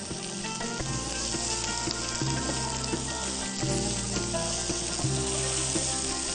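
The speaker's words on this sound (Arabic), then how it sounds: "بدات ان انا اشوحها مع البصل" Spinach and onion sauté in a pan with a steady, loud sizzle and frying hiss, joined by repeated scraping stirs, with no voices.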